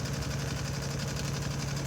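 A sewing machine stitching two layers of denim with a MuVit digital dual feed foot, a quiet, steady fast mechanical whir with rapid rhythmic pulsing throughout.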